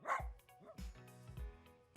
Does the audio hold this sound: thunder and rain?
no